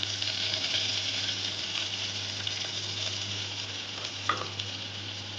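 Tomato sizzles in a hot pan with oil while varagu rice pongal is being cooked, a steady crackling fry with a faint low hum and an occasional stir or clink.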